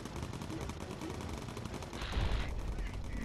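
Rapid machine gun fire from the bomber game Bomber Crew, a dense rattling burst of shots throughout, fairly quiet, with a brighter swell of gunfire near the end.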